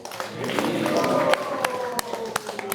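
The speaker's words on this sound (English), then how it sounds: "So please give them a big round of applause and a big Haribol." An audience at a Saturday feast class gives a round of applause, with scattered distinct claps over a murmuring crowd and voices.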